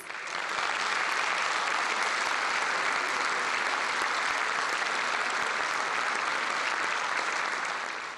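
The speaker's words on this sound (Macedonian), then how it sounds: "Да ги поздравиме со уште еден аплауз" Sustained audience applause at a memorial folk concert, a dense, even wash of many hands clapping at a steady loudness throughout, with no talk on top.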